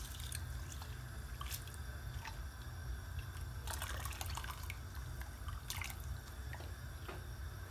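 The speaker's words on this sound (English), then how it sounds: "So let's just drop them in there." Washed, soaked rice slides into a pot of boiling water, giving soft wet splashes and patters in short bursts over a steady low bubbling rumble, close and fairly quiet.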